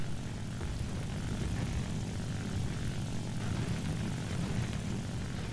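Propeller engine of a J2M3 Raiden fighter in War Thunder drones steadily and loudly throughout, a continuous low rumble with no talking.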